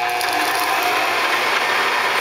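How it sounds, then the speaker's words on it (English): Bridgeport milling machine spindle driven by a retrofitted DC motor through a DC speed controller, giving a steady, close mechanical whir with a faint ratcheting, gear-like rattle running throughout, no talking. "So spindle's turning, and it's all through the speed control here, so I can slow it down."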